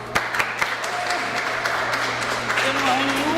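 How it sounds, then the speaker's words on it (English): An audience at a mayor's public event breaks into a round of applause, a steady wash of clapping with a few sharper claps, while a voice talks over it. "Round of applause."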